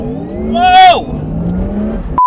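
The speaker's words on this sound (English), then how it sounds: "The reason for that brutal acceleration with a car like the Taycan is that the torque and the power, they're all available at 0 RPM." A 2021 Porsche Taycan Turbo S electric AWD car accelerating hard from a standstill, a rising electric motor whine that sweeps up loudly then falls away, with a voice exclaiming over it.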